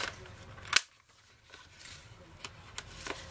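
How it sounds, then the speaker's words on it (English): Scissors snipping the corners of a paper book cover for a scrapbook folio: one sharp close cut followed by a few lighter, fainter snips against a quiet room. "I'm going to round my corners on the cover of the book"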